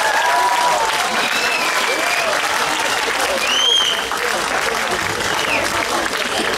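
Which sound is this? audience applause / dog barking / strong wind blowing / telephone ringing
audience applause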